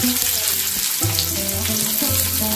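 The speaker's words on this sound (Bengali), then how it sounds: "এবারে দিচ্ছি একটা পেঁয়াজ কুচি," Chopped onion frying in hot oil with panch phoron in a wok: a steady, dense sizzle that holds throughout, close by and partly under background music.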